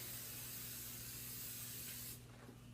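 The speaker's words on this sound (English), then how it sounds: "Give it some spray." A steady hiss of hair spray from an aerosol can for about two seconds, close up, then it cuts off over a low background hum.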